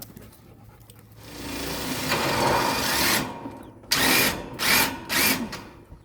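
A power drill drives screws into tin sheeting on the bottom of a chicken coop. A long whir is followed by three short, loud pulsed bursts, with faint ambient noise around them.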